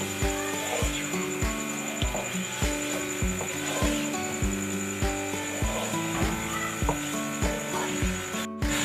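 Washed chicken for a Kashmiri chicken dish is stirred while frying in a pot, giving rhythmic scraping strokes about every half second over a steady background, close and fairly loud.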